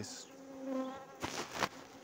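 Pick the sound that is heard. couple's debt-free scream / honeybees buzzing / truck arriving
honeybees buzzing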